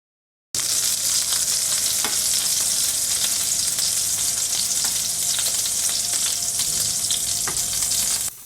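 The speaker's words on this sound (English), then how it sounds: "Got a little bit of a sizzle in the pan while I'm putting them in." Steady, loud sizzling of meatballs frying in a pan, a continuous crackle with occasional sharper pops, no voices.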